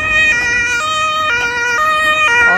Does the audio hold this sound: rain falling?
no